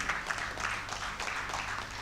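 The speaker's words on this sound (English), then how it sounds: "A round of applause as he comes to the podium" Audience at an engineering conference clapping as a speaker comes to the podium, faint and distant, a steady patter of hands.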